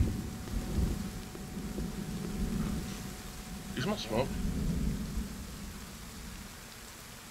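Steady rain in the video game The Forest patters and hisses under a low rumble, while a person speaks briefly partway through.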